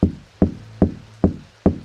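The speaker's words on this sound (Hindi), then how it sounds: "पहले मैं गेट पर नॉक करता हूँ, हो सकता है कोई अंदर हो" Someone knocks on a house door in the Minecraft video game: five crisp, evenly spaced knocks, close and loud, with near silence between them.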